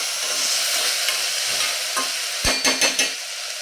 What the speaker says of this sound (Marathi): ही डाळ छानपैकी तुपावरती आपल्याला परतून घ्यायची आहे